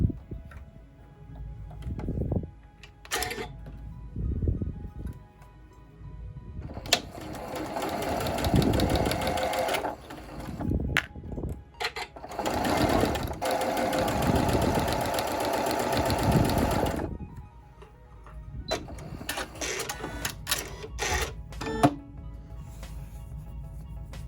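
A sewing machine stitches along a fabric edge in long steady runs of fast mechanical clatter, close and loud, broken by pauses with quieter clicks and handling noise.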